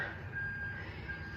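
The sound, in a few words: bin lorry reversing beeps outside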